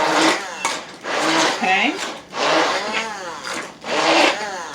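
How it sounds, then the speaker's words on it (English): Blender pulsing mashed cauliflower with whipping cream, paprika and dried parsley, in several short close whirring pulses heard under a speaking voice. "I'm just pulsing it in the beginning."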